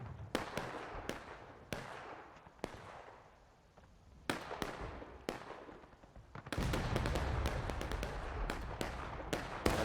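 CSA artillery in a Civil War battle game fires a series of sharp, booming cannon shots at irregular intervals, some near and loud, with a dense rumbling barrage swelling in the second half.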